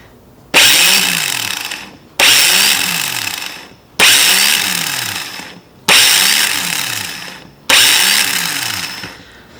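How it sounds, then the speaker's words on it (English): A car starter motor powered by a jump pack spins up in five separate bursts, each a loud whirring whine starting abruptly and slowly winding down before cutting off, with short pauses between. "we can see the motor part of the starter motor is working"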